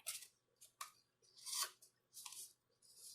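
Scissors cutting off extra paper or tape at home, several quiet separate snips with short pauses in between, close and alone with no talk.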